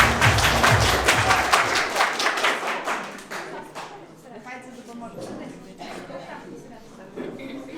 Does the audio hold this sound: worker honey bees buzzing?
no